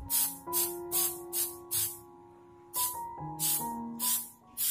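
Clear coat sprays onto a sticker decal on a glass in about ten short aerosol bursts, each a loud, close hiss separated by brief pauses, with faint background music running underneath.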